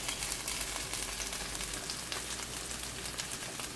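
Green onion and parsley sizzle steadily in a hot pan for spaghetti and meatballs, a dense, even frying hiss with small pops, loud and close, with no talking.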